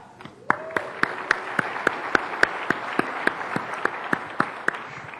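An audience at a software demo, just shown a three-way data join across Excel, SQL Azure and a marketplace feed, breaks into applause: loud scattered claps that build quickly and keep going steadily for several seconds, with no speech over them.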